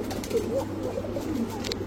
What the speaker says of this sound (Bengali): আমার এখানে সব কবুতরে ডাকতেছে